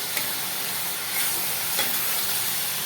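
Whisked yogurt hits hot spiced oil in a pan for Bengali-style mint chicken biryani, giving a steady, close, broadband sizzle and hiss with a few faint stirring scrapes, with no voices.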